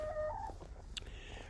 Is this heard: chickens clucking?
yes